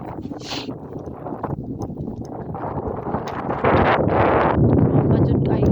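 Strong mountain wind roars and buffets the microphone in a continuous rushing wash, growing noticeably louder and harsher about halfway through.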